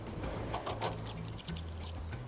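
A bunch of keys jangles close by while keys are tried in a door lock, with light metallic clinks and scrapes over a low background hum.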